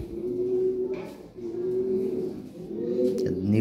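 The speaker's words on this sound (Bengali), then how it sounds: "এখানে এক পেয়ার কবুতর আছে" Lahori Sherazi pigeons, a toy Lahori pair, cooing close by in a steady run of low throaty coos that rise and fall over a few seconds, with no talk.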